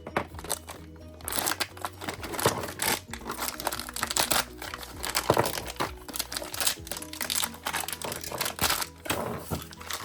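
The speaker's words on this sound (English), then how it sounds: "Let's clear the packaging." Plastic packaging is peeled and crinkled away from a mystery figure flask, giving a dense, steady run of crackling and tearing with sharp crunches spread across the whole stretch, close up, with no talking.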